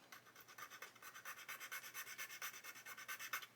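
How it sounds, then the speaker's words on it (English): A file rasps on the plastic parts of a Pocher 1/8 scale Lamborghini Aventador model kit, a quick, even run of faint scraping strokes heard alone. "just taking away that plastic off the top of there, just to thin them down a touch"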